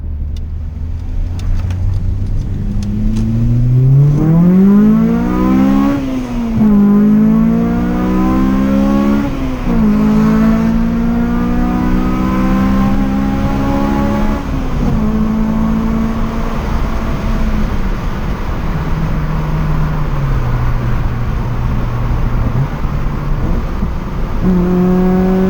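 A Honda Civic EP3 Type R with a short shifter being driven, its engine droning loud and close from inside the cabin, revs climbing and falling through several gear changes over a steady road rumble.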